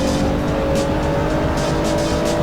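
A Nissan GT-R and a BMW GT3 race car in the Assetto Corsa racing game at Mugello, a loud, steady high-revving engine roar with a sustained whine and faint tire noise throughout.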